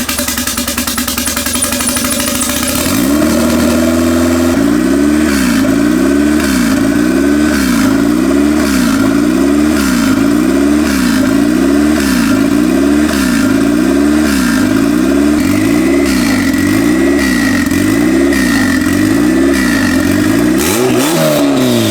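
A car engine fitted with a turbo wastegate cranks and catches after a few seconds, then runs loud and close with a rhythmic, wavering idle that rises and falls steadily until a final rev.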